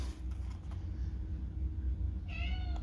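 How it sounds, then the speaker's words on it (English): A house cat gives a short, faint meow toward the end, heard over a steady low rumble of room noise. "oh, my cat's still crying."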